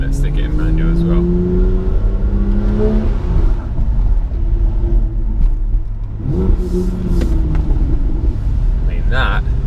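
A 2016 BMW M135i or M2 in sport mode with manual shifting revs hard, its engine note climbing and dropping through gear changes, loud and close with the window open, with brief voices over it.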